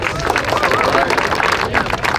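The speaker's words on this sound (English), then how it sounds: "Let's clap it up for the rain pass over" A crowd at an outdoor NFL Draft 7on7 football showcase claps and cheers steadily, a dense wash of applause and babble that stays loud throughout.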